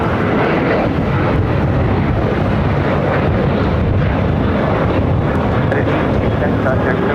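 A jet airliner rolls down runway 25 right at Los Angeles International Airport, its engines a steady, loud roar with broadband rumble that holds throughout, a voice occasionally talking over it.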